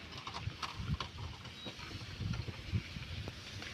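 A bullock cart arrives on a village farm, its hooves clopping faintly and unevenly over a low rumble of wheels and rattling wood at a distance.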